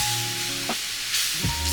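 Red wine sizzling and reducing in a hot pan while making Bolognese, a soft steady hiss of bubbling liquid with a couple of brief stirring knocks, fairly quiet throughout.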